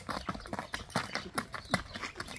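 Hooves of a Kyrgyz horse clip-clopping in a quick, steady rhythm, close and fairly loud, with no other sounds on top.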